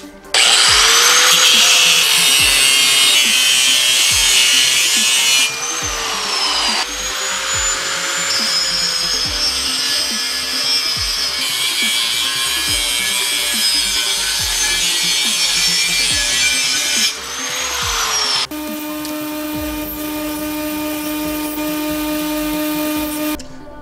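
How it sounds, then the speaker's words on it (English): Galvanized angle iron being sawed in long, loud, grinding strokes, pausing briefly between cuts before a steady high-pitched whine at the end. "Now I'm just going to mark and cut out 12 1-inch pieces of angle iron."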